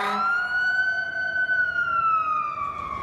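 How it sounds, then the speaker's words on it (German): A loud emergency siren wails in US city streets with a long, slowly falling tone over a low rumble of traffic, with no voices. "Du hörst die Sirene in den Straßen."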